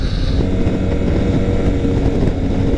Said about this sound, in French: Ça décolle fort, il faut faire attention en ville à la vitesse.